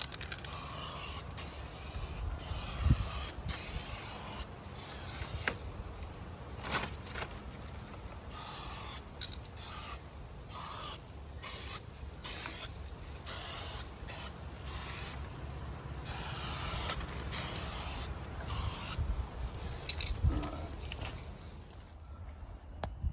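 Spray paint goes on in coats over a motorcycle fairing from a K1200RS project bike, with repeated short hissing bursts and pauses, fairly quiet and close, alongside light rustling and handling noise.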